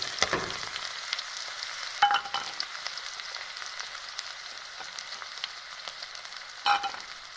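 Mustard seeds, onion, green chili and garlic fry in hot oil, giving a soft, steady sizzle with a few sharper crackles and clinks of a utensil against the pan.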